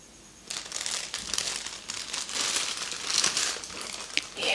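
Sheets of paper question forms rustle and crinkle as they are handled, a steady close crackling texture with brief louder crunches, set in a quiet ASMR-style recording.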